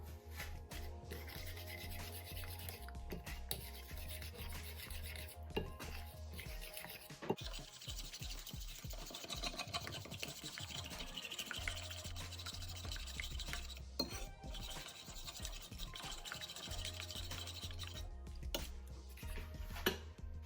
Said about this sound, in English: And we need to mix this now.